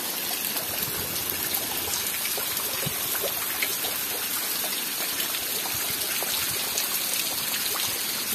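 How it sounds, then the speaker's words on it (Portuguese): Heavy rain pouring down in the Pernambuco sertão, a steady dense hiss of water with fine patter throughout, constant and close, with no talk. "A gente vê que tá chovendo muito."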